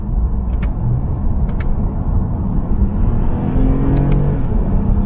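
A 2020 Toyota Avalon TRD on the road, a steady loud engine and tyre rumble heard from inside the cabin, with a few faint clicks and no talking.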